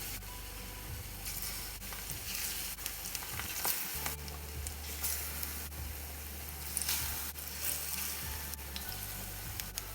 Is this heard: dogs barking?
no